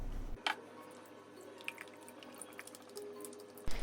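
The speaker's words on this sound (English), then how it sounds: "half a cup of beef broth gets added to the condensed cream soups and all the little flavorings." Beef broth pours into condensed cream soups with a brief splash, then a few light drips and trickles in a quiet kitchen.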